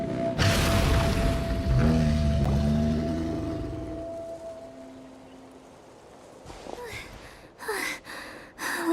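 Engines rev in a Genshin Impact scene: a low, loud droning rumble with rising mechanical tones that fades down midway, followed by a few scattered clanks and whooshes.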